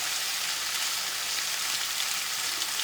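A steady, bright sizzle of food frying in a hot pan, continuous and close, with no voices.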